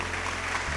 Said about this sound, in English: Some applause is in order.